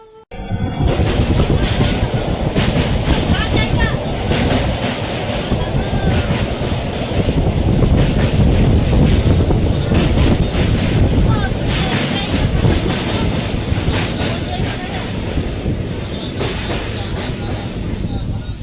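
A passenger train bound for Digha runs along at speed, a loud, dense and continuous rumble and clatter with wind buffeting the microphone throughout.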